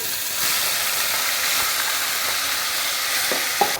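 Steady, close sizzling of food frying in a hot pan, a continuous crackling hiss with a faint clink near the end.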